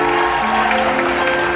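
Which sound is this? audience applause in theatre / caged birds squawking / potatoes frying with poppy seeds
audience applause in theatre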